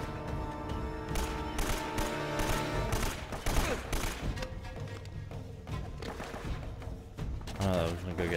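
Turret gunfire in the video game Uncharted: Drake's Fortune, a dense, continuous barrage of rapid shots and impacts layered with game music and effects, loud throughout, with someone talking over the battle.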